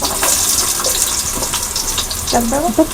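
Onions dropped into hot oil for a home-cooked fish sambar, giving a steady close sizzle and hiss throughout, with a brief clatter near the end.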